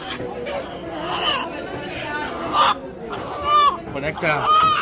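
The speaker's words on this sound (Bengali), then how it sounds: "দেশি মুরগ কোন জায়গায় আছে দেখেন?" Local desi chickens at a village market give scattered clucks and squawks beneath busy crowd chatter, with people talking close by throughout.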